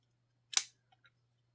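A single sharp click as the safety is pushed on a Gerber utility knife, close and crisp against near silence, followed by two tiny faint ticks.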